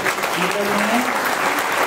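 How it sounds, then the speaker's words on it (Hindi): Loud, dense applause from a crowd at a Srimad Bhagavatam religious gathering in Noida, continuous clapping throughout with a voice audible underneath. "अब इनके जोरदार ताली हो जाए"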